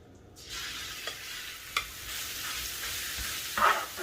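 Beef strips hit hot oil in a 14-inch HexClad pan and settle into a soft, even frying hiss with a few light pops, fairly quiet and steady.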